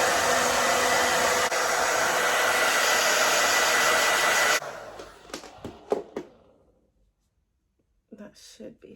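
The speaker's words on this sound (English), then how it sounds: "I'm just gonna blow dry this to just make sure that it's down" A hair dryer blows loudly and steadily for several seconds while drying hair before a wig install, then cuts off abruptly, followed by a few soft handling clicks and taps and a short rustle.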